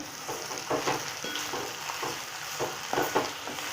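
Masala-coated bitter gourd (karela) stirred in a frying pan, with soft sizzling and intermittent scraping spoon strokes at an uneven rhythm, close and fairly quiet.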